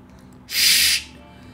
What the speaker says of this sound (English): We finally have a good use for that bug spray we brought down.